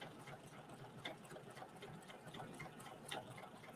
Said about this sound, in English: I'm stitching through way more layers right here than just that little pocket